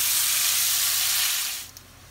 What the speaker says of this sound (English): Throw some bacon on there